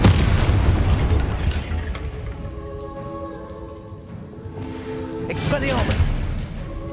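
Bombarda spell explosion in Hogwarts Legacy combat, a loud booming burst over dense rumbling battle noise, with a character's voice calling out over it and ringing tonal effects trailing after.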